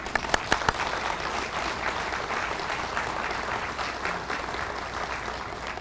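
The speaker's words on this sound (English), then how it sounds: "Let's give them a round of applause right now." An audience claps for recipients of the 2022 ECU Alumni Awards, with a few sharp early claps swelling into dense, sustained applause that holds steady for several seconds.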